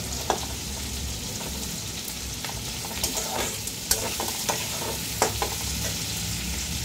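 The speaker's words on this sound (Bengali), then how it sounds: "এবার আঁচটা বাড়িয়ে দিয়ে একটু নাড়াচাড়া করব।" Mutton stew with vegetables sizzles steadily in a pan over raised heat while it is stirred, a constant close frying hiss broken by occasional sharp scrapes and taps of the spoon.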